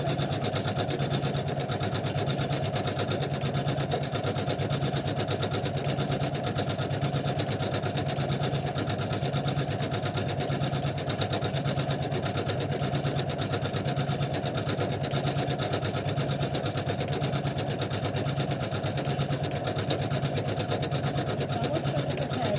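An embroidery machine stitches a snowman design onto cream fabric with a continuous, rapid mechanical hum and a fine, fast needle pulse. It runs steady and unbroken for over twenty seconds, close by and without speech.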